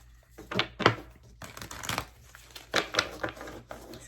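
Tarot cards shuffled by hand in close, crisp bursts of papery rustling and slapping, irregular and uneven in rhythm, with no talking over it.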